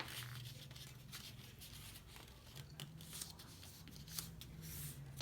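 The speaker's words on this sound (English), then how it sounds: "You're going to fold up on one side, open it again, and then fold up on the other side." Paper being folded into an origami butterfly gives soft, close crinkling and rustling strokes at low volume, with no voices.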